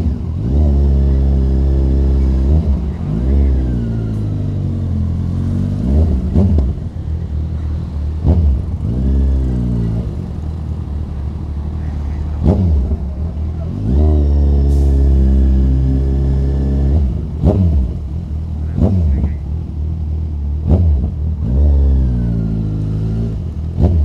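A Kawasaki ZX6R motorcycle engine runs close by, revving repeatedly in rising and falling bursts over a steady idle, loud and alone throughout.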